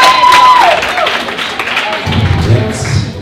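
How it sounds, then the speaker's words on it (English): An audience cheers and applauds at a talk on innovation, a short burst of clapping and crowd noise with speech over it. "That one's certainly got the biggest cheer so far."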